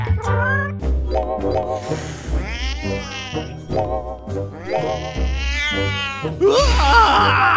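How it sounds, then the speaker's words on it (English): A cat meows repeatedly, a run of loud, close, wavering calls with short gaps between them, rising into a more strained, drawn-out yowl at the end. "Another cat!"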